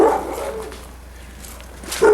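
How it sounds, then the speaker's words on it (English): Dogs bark loudly at the start and again at the end, with quieter stretches of background noise between the bursts. "The dogs are barking too crazy."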